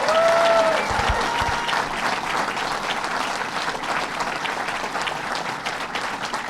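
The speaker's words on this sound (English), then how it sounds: "So let's give them a big round of applause." Applause from the crowd at a New York Islanders press conference about Belmont Park, a loud sustained wave of many people clapping, steady for the whole stretch, with a brief tonal squeak near the start.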